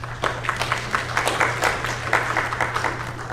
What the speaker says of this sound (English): that applause goes for you